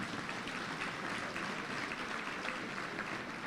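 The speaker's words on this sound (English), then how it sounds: "Please applaud them." Audience applause at a justice gala, a dense, steady clapping from a crowd that holds evenly throughout without a break.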